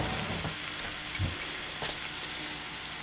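Home-canned green beans frying in a pan, a continuous close hiss of sizzling with a few faint clicks, steady in loudness throughout.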